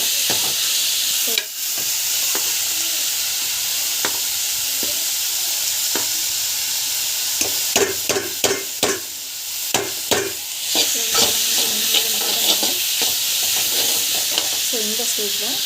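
A one-pot Bisi Bele Bath rice dish sizzles steadily in hot oil while a spoon scrapes and stirs the pot in bursts of clatter. The cooking noise is loud and continuous, with no talking.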